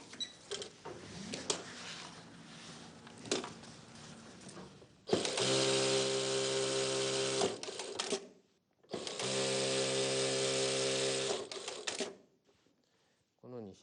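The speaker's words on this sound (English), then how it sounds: "As you can see, an industrial sewing machine is very fast." Industrial straight-stitch sewing machine running at high speed in two long bursts of dense, steady mechanical whirring, each about three seconds, after quieter clicks and handling sounds near the machine.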